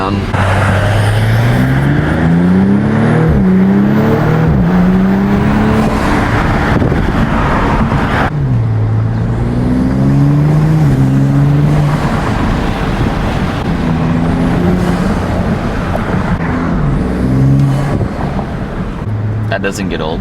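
Audi S4 with carbon intake and turbo inlet, recorded with windows down: loud engine drone and rising turbo whine through several rev-ups, with brief lifts between pulls, sustained and close.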